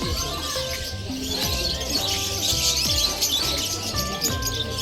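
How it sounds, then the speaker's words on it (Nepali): Many birds chirp and call together at a market stall, with layered repeated tweets and whistles over a continuous background din. "कति धेरै हल्ला गरेको चराहरूले"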